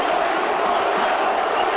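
A big stadium crowd roaring at an A-League football semi-final between Western Sydney Wanderers and Brisbane Roar, a dense, steady wash of cheering with no break.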